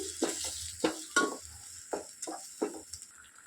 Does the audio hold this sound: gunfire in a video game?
no